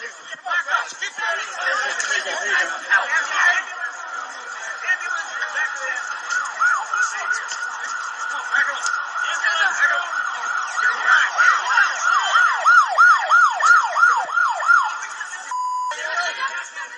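An ambulance siren wails and yelps continuously at a chaotic scene where a crowd is being pushed back, the cycling pitch growing louder and faster before it cuts off abruptly.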